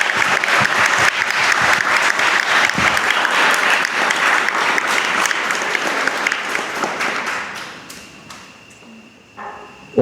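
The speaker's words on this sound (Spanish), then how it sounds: "Le damos un aplauso a estos niños que hoy hacen su primera comunión" A church congregation applauds children making their first communion, with dense, lively clapping that thins out and fades after about seven seconds, leaving a few scattered claps and a soft tone near the end.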